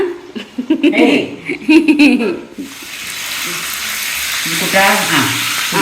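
Tilapia fish frying in hot oil gives a broad, steady hiss that rises after voices chatter and laugh nearby, then continues close and loud with another voice over it at the end.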